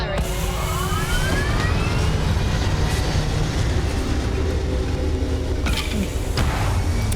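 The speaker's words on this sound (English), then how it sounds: "All thrusters firing." Spaceship thrusters in Starfield fire with a steady, loud, broadband roar that holds evenly throughout, with faint whooshing sweeps near the start.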